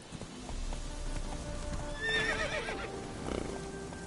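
A horse in The Witcher 3 video game gives a shrill rising neigh amid steady clip-clop hoofbeats, set against a low ambient rumble with no speech.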